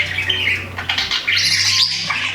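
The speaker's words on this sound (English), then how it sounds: "Parrots, both big and small, all squawk without exception." A parrot lets out harsh, loud squawks close by, several raspy bursts in quick succession over a low background hum.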